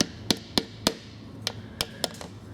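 Seven sharp hammer taps seating a transfer case seal on a 1999 Dodge Dakota, at an irregular, unhurried pace, light and close, over a quiet background hum.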